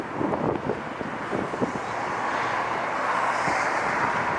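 Strong wind buffeting a microphone outdoors at LAX airport, a broad steady roar with gusty rumbles in the first couple of seconds, loud and continuous with no voices.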